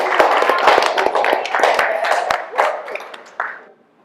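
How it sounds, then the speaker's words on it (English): A studio audience at a reunion special claps for the blue team, with individual hand claps distinct and brisk at first, then thinning out and stopping by about four seconds, with voices faintly mixed in. "them a round of applause"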